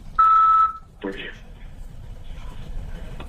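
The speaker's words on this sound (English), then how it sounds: "Please state your name at the beep." An automated prepaid detainee phone system gives a single clear, steady electronic beep lasting about half a second, followed by a brief murmur of voice and low background hiss.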